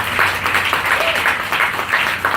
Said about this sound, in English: Hey, a round of applause, please,